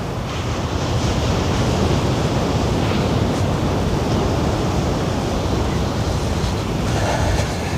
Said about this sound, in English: Ocean looks nice.